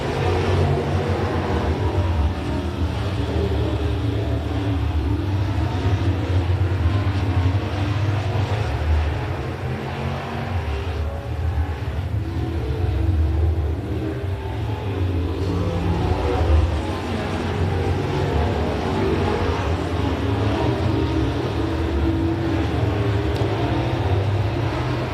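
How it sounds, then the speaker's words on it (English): Race cars at Big O Speedway accelerating together at the green flag of a Friday night race, a dense, sustained roar of engines with pulsing surges, fairly loud and continuous. "They hit the go pedal, green flag in the air,"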